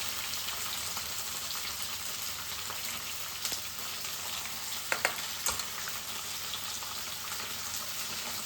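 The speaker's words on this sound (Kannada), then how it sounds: "ಅದೊಂಚೂರು ಇದಾಗ್ತಿದ್ದಂತೆ ಟೊಮೆಟೊ ಈರುಳ್ಳಿ ಹಾಕ್ತೀನಿ" Tomato and onion fry in a pan with curry leaves over high flame, making a soft steady sizzle with a few sharp ticks and crackles and no talking.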